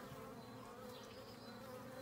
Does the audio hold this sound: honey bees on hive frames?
yes